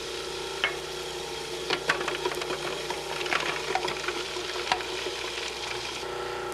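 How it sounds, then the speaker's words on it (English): Cuisinart food processor with metal blade running steadily while shallots are dropped through the small feed tube, a continuous whirring hum with scattered clicks and rattles of pieces hitting the blade. "While the machine is running, drop the shallots into the small feed tube."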